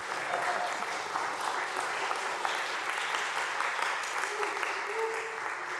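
Steady applause from a church congregation during a service, sustained at an even level throughout with faint voices mixed in.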